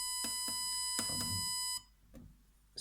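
An Arduino-built home security alarm panel sounds a series of sharp electronic tone beeps during password entry, evenly spaced and close, then falls quiet.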